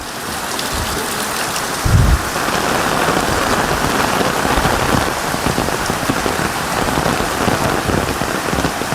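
Heavy monsoon rain pours down in a dense, constant hiss and patter, loud and close, with a brief low thump early on, on the pilgrimage footpath from Haridwar to Neelkanth Mahadev.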